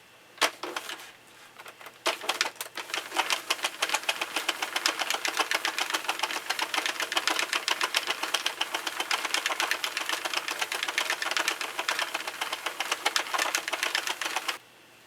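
A hand-cranked knitting machine works a row of fabric, making a fast, continuous rattling clatter of carriage and needles that starts after a few isolated clicks and runs steadily for most of the clip, close and alone.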